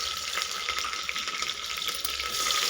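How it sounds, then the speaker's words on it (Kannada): Green chillies and onion frying in a pan for a vegetable kushka, a continuous bright sizzle with faint crackles that stays fairly soft and close, with no voices. "ಸ್ವಲ್ಪ ಇದು ಫ್ರೈ ಆಗಿ ಫ್ರೆಂಡ್ಸ್, ಇದು ತುಂಬ ಸ್ವಲ್ಪ ಹಸಿಮೆಣಸಿನಕಾಯಿ ಹಾಕ್ತಾಯಿದ್ದೀನಿ"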